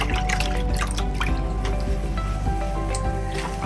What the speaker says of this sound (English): You have to move the water around to mix this up.